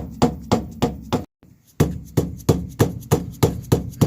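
A screwdriver hammered into a Ford 8.8 rear axle to break a seal, giving sharp, regular metallic knocks about twice per second, loud and close, with a brief pause partway through.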